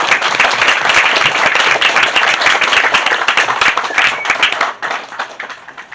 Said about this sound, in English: Everyone give Haller a round of applause.